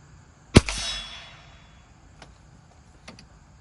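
A single sharp shot from an Australian No 2 Lee Enfield .22LR rifle cracks out close and loud, its ring decaying over half a second, then only faint ticks and quiet background follow.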